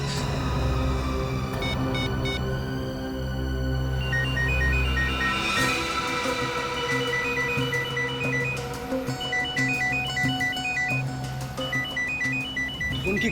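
A mobile phone rings with a repeating electronic melodic ringtone that plays steadily and prominently, with a low hum underneath and no one speaking.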